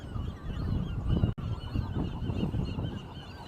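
A seagull on Alcatraz gives a run of hoarse, honking calls close by, repeated in quick bursts over steady outdoor background noise.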